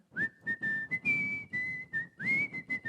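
A person whistles the melody of Au clair de la lune alone, clear sustained notes in a steady phrase-by-phrase rhythm with short breaths between, close and fairly loud.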